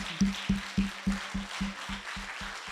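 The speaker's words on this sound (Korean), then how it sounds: "Would you give the Lord a hand clap?" A church congregation claps in unison for the Lord, about ten soft, evenly spaced claps in a brisk steady rhythm, faint and slightly distant.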